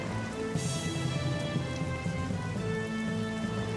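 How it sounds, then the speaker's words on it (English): Steady rain pours over the battlefield in the video game Strategic Mind: Spectre of Communism, with a low rumble of thunder rolling underneath the continuous hiss of falling drops. "Can you hear the thunder?"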